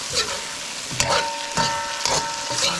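Shrimp and potatoes cooking in a pan with curry powder, masala and patra: a continuous close sizzle with a few louder bursts as the food is stirred, no one speaking.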